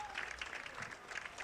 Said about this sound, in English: He gets a nice round of applause from both dugouts, both sides of the fans